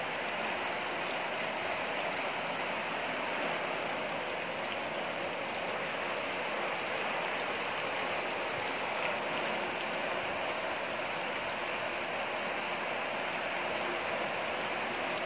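Heavy rain pours steadily onto a house, a dense, continuous hiss of drops drumming on surfaces with no break, moderately loud and even throughout, no voices.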